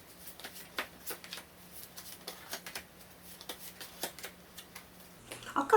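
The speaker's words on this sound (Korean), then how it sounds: "조언 카드 한 장씩 또 뽑아보도록 하겠습니다" Tarot cards shuffled and drawn during a career-themed reading, giving a quiet series of soft, irregular card flicks and taps, growing a little louder and busier at the end, with no talk.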